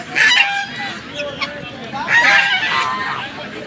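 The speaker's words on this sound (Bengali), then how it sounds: "একদম আলাদা কোয়ালিটির মুরগি, ময়ূরের মতো অনেকটা দেখতে" At the Birnagar poultry and bird market, a peacock-like chicken breed gives two loud, harsh squawking calls close by, with murmuring market voices behind.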